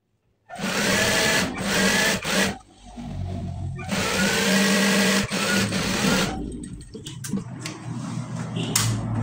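Overlock serger machine running in fast bursts as it finishes a trouser seam, loud whirring stitching with brief pauses between runs, close up and without talk.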